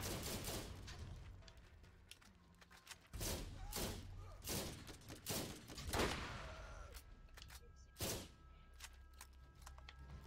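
Rapid gunfire from the video game Borderlands, a dense run of sharp shots and bursts with heavy thumps, loud and continuous across the stretch with brief pauses between volleys.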